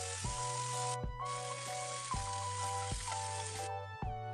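Chicken pieces frying in a pan for restaurant-style butter chicken give a continuous close sizzle that cuts out briefly a few times, with steady tonal music underneath.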